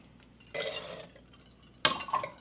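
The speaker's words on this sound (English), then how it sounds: "doing it one scoop at a time to not make a mess and to allow the water to drain out before I put them into the slow cooker" Water drains from a scoop of soaked beans into a slow cooker in two quiet splashy bursts with faint dripping between them.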